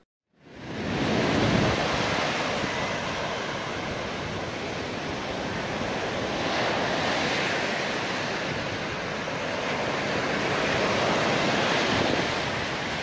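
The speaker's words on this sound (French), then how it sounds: "je vous laisse apprécier un petit peu le bruit de la mer" Continuous roar of sea surf breaking on a beach, loud and steady with gentle swells in intensity, no voices.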